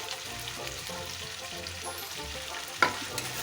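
Fried potatoes are stirred into chicken frying in oil in a pan, producing a quiet, steady sizzle with a single sharp utensil scrape near the end.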